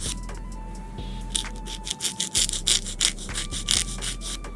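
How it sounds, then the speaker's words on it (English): A nail file rasping along the sidewall of a fingernail, a quick run of short, bright, closely spaced strokes heard up close over a low steady hum. "I'm filing all the way up the sidewall."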